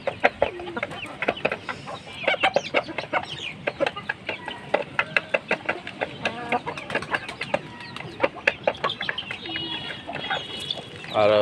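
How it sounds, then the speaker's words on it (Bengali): Silver-coloured chickens and a harried rooster in a farmyard, clucking in dense, overlapping bursts throughout, with sharp calls rising above a steady background of fowl chatter. "এটা হইতেছে অবহেলিত মোরগ, যেটা সবসময় দৌড়ের উপর রাখে মোরগগুলা।"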